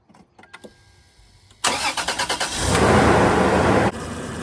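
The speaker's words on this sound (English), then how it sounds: "now we're gonna do the ultimate test and start it up" A Toyota 4Runner that had sat unused for months cranks over with a quick rhythmic starter whir on a fresh battery, then catches and settles into a steady, loud close-up engine idle.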